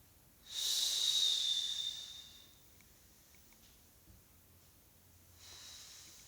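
A single long exhale through the nose during a slow arm exercise, about two seconds of close, soft breathy hiss, followed by faint quiet breath.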